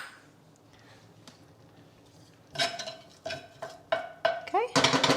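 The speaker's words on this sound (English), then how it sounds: "a little bit of sauteing" Spices sautéing in a pan while cooking a lemon lentil dal, heard as a quiet lead-in followed by a series of sharp clinks and scraping stirs of a utensil against the pan, building louder toward the end.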